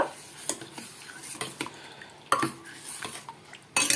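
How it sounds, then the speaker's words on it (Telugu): Utensil clanking and scraping against a pot as buttermilk soup is stirred with tempering, several sharp metallic knocks spaced irregularly over a quiet background. "ఇప్పుడు మనం దీన్ని బాగా కలుపుకోవాలండి పోపు అంతా చారుకు పట్టేలాగా కలుపుకోవాలన్నమాట"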